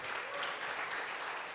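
Applause for a klezmer band at a Succos show, a steady dense wash of clapping from an audience throughout the short stretch.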